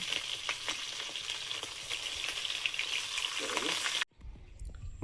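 Pabda fish frying in a pan in an outdoor kitchen, a steady dense sizzle with crackling pops for about four seconds before cutting off abruptly to near quiet.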